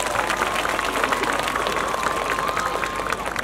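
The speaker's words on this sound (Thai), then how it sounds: "ขอเสียงปรบมือเป็นกำลังใจให้น้องๆจากมาเลเซียอีกครั้งครับ" Audience applause for a Malaysian school marching band team at the final of a 2023 marching street parade competition: dense, steady clapping and crowd noise that stays loud throughout.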